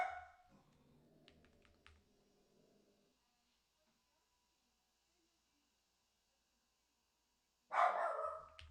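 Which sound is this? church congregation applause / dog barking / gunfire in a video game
dog barking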